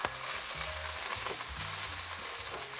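Chopped yellow onion frying in olive oil, a dense close sizzle with soft stirring knocks throughout and no voices.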